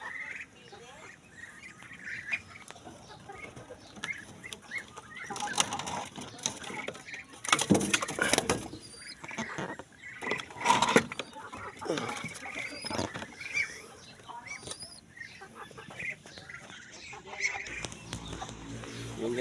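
White and gray pigeons inside their coop coo and flutter in short bursts, with a few louder wing flaps near the middle, while someone talks intermittently nearby.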